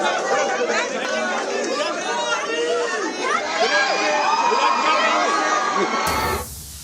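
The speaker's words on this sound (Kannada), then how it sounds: "ಒಬ್ಬೊಬ್ಬರೇ ಆಟಗಾರರು ಆಚೆ ಬರ್ತಾ ಇದ್ದಂತೆ ಅಲ್ಲಿರುವಂತಹ ಸಿಬ್ಬಂದಿಯ ಹರ್ಷೋದ್ಗಾರ ಕೂಡ ಮುಗಿಲು ಮುಟ್ಟಿದೆ" Staff cheer, shout and whoop loudly as Team India cricketers come out one by one, a dense excited crowd of voices with overlapping chatter that drops off at the end.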